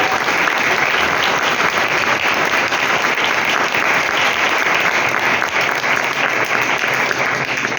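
A church congregation at a Sunday service applauds loudly and steadily, a dense wash of clapping hands that holds at full strength for the whole stretch with no voices standing out.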